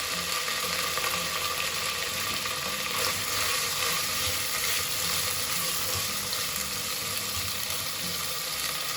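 Steady, dense sizzling and crackling of fresh beef and dried salted beef frying in hot oil, continuous throughout with no voices.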